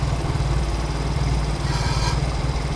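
A Honda Mio M3 scooter engine with Blue Core technology runs close by with a steady, even idle throughout, a continuous low rumble with no pause or rev change.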